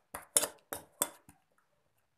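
A spoon strikes and scrapes a bowl while mixing homemade cream ingredients, giving five quick, close clinks that fade out into near silence.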